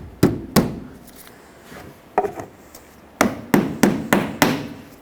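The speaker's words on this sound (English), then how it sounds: "we can put in all of our push clips going from one side to the other" Plastic push clips are snapped into the radiator support of a 2007-2010 Chrysler Sebring, with sharp, close taps coming one at a time, first spaced out and then as a quicker run of five near the end.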